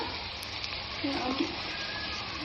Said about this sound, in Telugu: ఉల్లిగడ్డలు ఫ్రై అయిపోతాయండి.